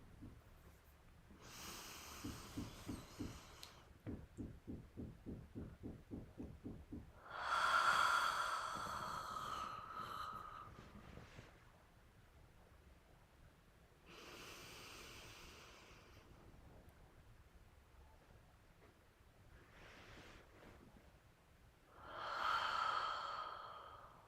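Slow, deep breaths drawn in and out with arms lifted overhead, quiet and close: several long inhales and sighing exhales with a rapid series of short puffed breaths between them, alone without talk.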